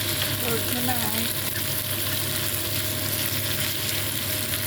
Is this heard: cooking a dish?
yes